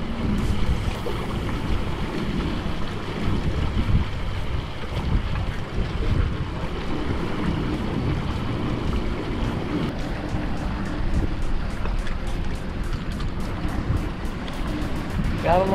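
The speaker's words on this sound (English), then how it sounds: "It's kind of loud with the wind." Steady, loud wind buffeting the microphone aboard a fishing boat trolling for bluefish at sea, with a continuous low rumble and rushing gusts for the whole stretch and faint voices mixed underneath.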